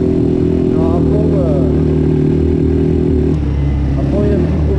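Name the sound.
quad bike engine revving at full throttle, running badly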